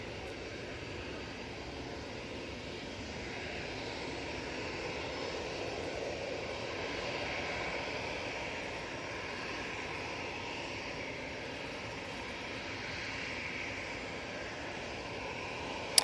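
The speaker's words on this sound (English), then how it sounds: "Got that EasyJet. Now starting up." An EasyJet airliner at Manchester Airport runs up its engines, a sustained whining jet drone with a slow swell in loudness around the middle, moderately near and free of talk.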